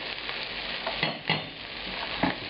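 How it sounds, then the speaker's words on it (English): Garlic sizzles in a pan of enchilada sauce for beef and cheese enchiladas, a steady close frying hiss broken by a few sharper stirring scrapes, with no voices. "Now I'm adding the garlic"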